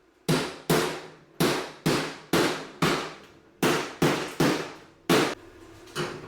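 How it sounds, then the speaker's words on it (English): About a dozen sharp metallic hammer blows on a 1965 Chevrolet C10 inner door patch panel at a steady pace, each ringing briefly and decaying, close by with no talking. "Now I gotta do more hammering to get it closer."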